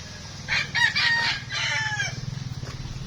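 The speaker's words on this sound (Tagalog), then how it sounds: "Uy, ang daming manok." A rooster crows loudly and close by, with chickens clucking around it and a steady low rumble beneath.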